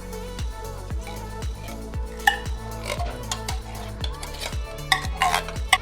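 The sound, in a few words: stirring frozen hash browns in a dish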